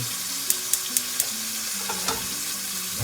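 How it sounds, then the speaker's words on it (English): Beef browning in a pan for pot roast gives a steady, close sizzle and crackle, with a few sharp clicks near the start and no talking. "So you'll brown both sides"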